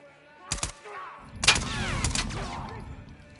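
Gunfire in The Last of Us Part 2 rings out loud and close: a sharp pair of shots, then a denser volley of blasts with a player's voice talking over the action.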